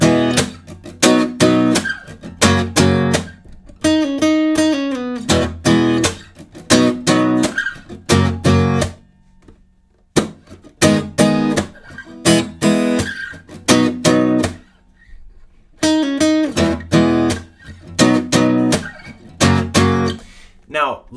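An acoustic guitar plays the post-chorus of a song, strummed chords in a steady rhythm with short pauses between phrases, loud and close with no talking.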